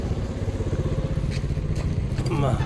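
A motorcycle engine chugs steadily nearby, its rhythmic putter continuing throughout, with a few faint clicks on top.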